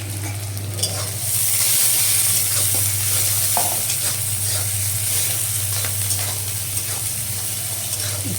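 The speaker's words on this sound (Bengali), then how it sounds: "একটু পেঁয়াজগুলো হালকা করে ভেজে নিয়ে" Onions frying in oil in a pan while being stirred, a continuous loud sizzle with scraping stir sounds and a steady low hum underneath, no talking.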